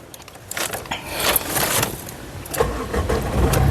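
A 2015 Renault Duster RXZ 4x4 engine cranks briefly and catches on the first try, then settles into a steady idle heard close from inside the car.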